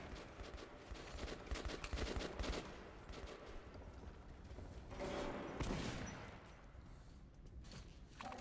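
Rapid gunfire rattles continuously in the Metro 2033 video game, with dense bursts of automatic shots and heavier volleys swelling midway, loud and sustained throughout with no speech.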